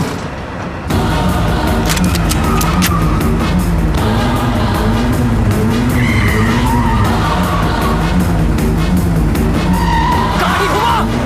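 A car skids through a movie chase scene, with tires squealing and the engine roaring loudly and continuously for several seconds while agitated voices cut in over the noise.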